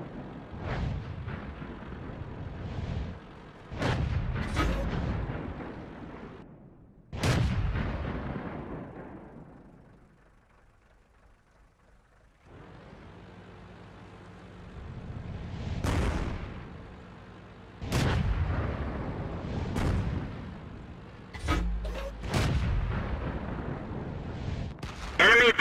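Artillery in the World of Tanks game on the Erlenberg map, a leFH18B2 self-propelled gun in an artillery duel, booms out in sharp, loud blasts spaced several seconds apart, with a quieter lull in the middle.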